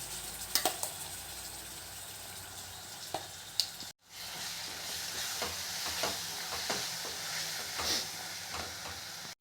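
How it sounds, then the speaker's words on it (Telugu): Onion-chili paste frying in a pan with green chilies, a steady sizzle broken by scraping stirs of a spatula, growing louder after a brief drop to near silence. "ఇవి మంచిగా ఫ్రై అయిన తర్వాత దీనిలో మిక్సీ పట్టుకున్న ఉల్లికారం వేసుకోవాలి"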